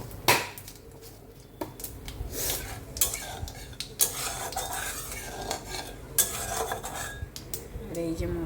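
Dry red chillies, bay leaf and cumin seeds sizzle in hot oil in a pan while a metal spoon stirs and scrapes repeatedly, with clinks and knocks against the pan over a steady frying hiss, no talking.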